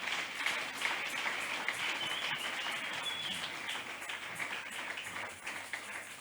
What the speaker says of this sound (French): On applaudit pour le grand roi.